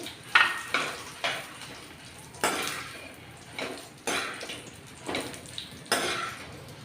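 Red chillies and curry leaves roasting in a pan, a soft sizzle broken by repeated spatula scrapes against the metal roughly every second, close and quiet with no voices.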